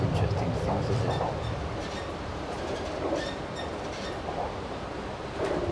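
Sydney driverless metro train coming into Chatswood station, heard from inside the carriage as a steady low rumble with faint wheel and track noise, moderately quiet and continuous.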